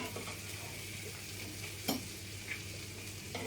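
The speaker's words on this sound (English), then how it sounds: "Let's now attempt to transfer our cooked cod onto our plates." Soft sizzling from a frying pan as cooked oat-wrapped cod is lifted onto plates, with a few faint scrapes and clinks over a steady low hum.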